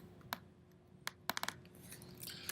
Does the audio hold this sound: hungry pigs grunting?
no